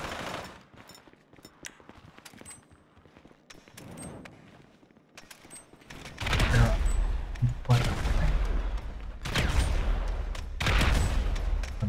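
Gunfire in GTA Online during a 2v2 casino heist match: scattered faint shots and clicks at first, then loud, dense automatic bursts with heavy booming reports dominating the second half.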